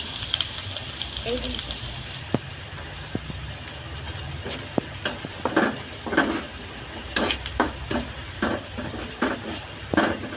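Onion, garlic and green chillies fry in oil with a steady hiss, while a spatula scrapes and knocks against the pan in a string of irregular, fairly close strokes, with some soft talk early on.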